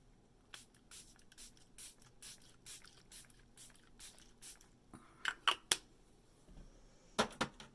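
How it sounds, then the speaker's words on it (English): A facial mist spray spritzes the face indoors in a series of soft, quick hissing puffs, a steady run of short bursts followed by a few sharper close sprays, faint and with no talk. "I'm going to spritz my face."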